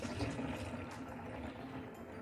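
Water pouring into a jerrycan or container to mix zeolite powder for garden use, a steady soft liquid rush heard close up and alone for a couple of seconds.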